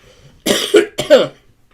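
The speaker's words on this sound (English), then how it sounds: "I'm just going to have a bit of a cough." Two sharp, close coughs in rapid succession, loud and dry, with brief quiet before and after.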